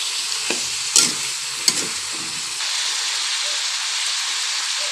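Breadfruit (pakak) slices dropped into a pan and cooking, with a few sharp clatters and stirring knocks over a steady sizzle that settles into an even frying hiss.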